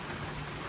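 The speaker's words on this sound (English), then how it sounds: "Look at this rain." Steady rain pours down at a workshop yard, a dense even hiss of drops filling the whole moment with no voices.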